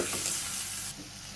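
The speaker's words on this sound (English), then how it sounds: "Let's fry this until golden brown." Garlic, onion and chili frying in a pan while being stirred, a loud, close, crackling sizzle that eases slightly partway through, with no talk.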